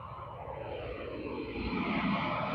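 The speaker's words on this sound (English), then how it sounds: "Got another plane taking off." An airplane takes off from an airport, its engine a steady, broad roar that swells slightly louder over a few seconds, with no voices.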